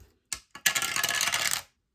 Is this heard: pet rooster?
no